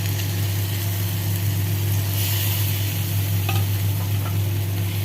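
Ground green peas with ginger paste are stirred in a hot pan, giving a steady, close sizzle with soft scraping strokes over a constant low hum from a nearby appliance, with no talking.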